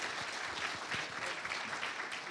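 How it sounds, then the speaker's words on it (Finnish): A seminar audience gives a short round of applause for a speaker, dense and steady clapping that fills the room at moderate loudness throughout. "Annetaan pienet aplodit Jussille erittäin hienosta esityksestä."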